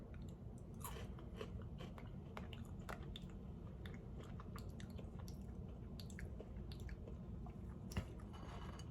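Crunchy chewing of Monster Mash cereal with pink marshmallow heads, a close, steady run of small bites and crackles for several seconds with no talking.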